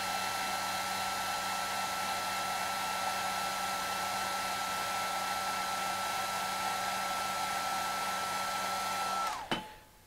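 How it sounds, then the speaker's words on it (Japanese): Hair dryer blowing hot air to heat and press down a sheet over a model kit's throttle lever part, a steady loud whirring roar running for about nine seconds before abruptly switching off with a brief clunk. "でこれをドライヤーの温風で炙ります。"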